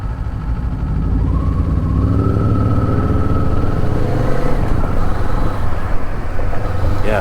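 Kawasaki Eliminator 450 motorcycle cruising slowly in third gear, its engine drone steady and close throughout with a slight rise in pitch as it pulls along.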